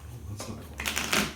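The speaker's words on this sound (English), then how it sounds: "I'm going to start shuffling" A deck of game cards is shuffled up close, a soft ruffle building into two louder riffling bursts toward the end, with no talk over it.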